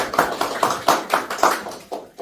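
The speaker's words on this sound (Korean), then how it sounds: "한번 박수 한번 해주시죠" Audience applause for a local chapter head of the Korean independence veterans' association at a March 1st movement talk event, heard as sparse, rhythmic claps rising and falling in separate bursts, fairly close, with no talking over them.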